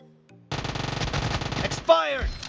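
SMG firing in BGMI at close range, a sustained rapid burst of evenly spaced loud shots lasting about a second and a half, followed by clattering shell and reload sounds.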